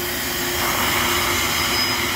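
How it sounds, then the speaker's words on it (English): A flow bench draws air through a stock small-block Ford TFS 170 cylinder head, making a constant, loud, close whooshing roar with no voices. "we're gonna turn on the flow bench"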